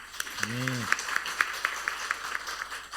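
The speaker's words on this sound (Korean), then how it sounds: "하나님께 영광의 박수 드리겠습니다" A church congregation at a Sunday service claps in a steady, even rhythm, moderately close, with a brief voice rising over the opening beats.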